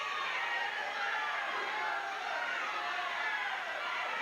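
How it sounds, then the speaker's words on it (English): Crowd yelling at a Southwest Championship Wrestling event, a dense, steady wash of many voices that stays at a constant roar with no single voice standing out. "the crowd is yelling here"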